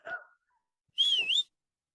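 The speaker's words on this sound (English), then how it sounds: "Referee's blown his whistle and we're off." A single shrill referee's whistle blast rings out clearly at the start of a football match after a short faint sound, then silence.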